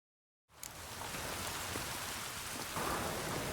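Steady, heavy rain falls in the city of Novigrad in The Witcher 3, starting abruptly after a brief silence and continuing as a dense, even wash of drops with a faint low rumble.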